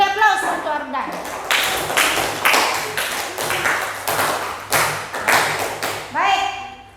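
A classroom of students claps in a few bursts of applause for a classmate, close and lively, with a teacher's voice speaking at the start and end.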